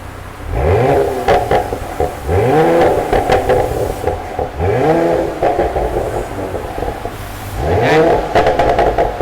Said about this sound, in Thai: มาเร่งฟังเสียงกัน อ่าเบิ้ล